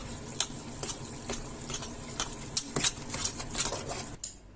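Buckwheat porridge is stirred in an oversized pot, with a spoon making repeated soft scrapes and taps at a steady pace, close and fairly quiet, ending abruptly.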